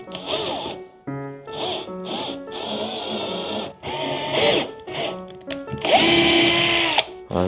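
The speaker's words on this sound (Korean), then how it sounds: "원래 이거 스텝 드릴로 하면 안 되고 다른 긴 8mm 길이로 뚫으면 될 것 같은데" A step drill whirs in short, repeated bursts while boring a bolt hole during a Zontes 310M delivery setup, revving up and down close by, ending in a louder sustained grind.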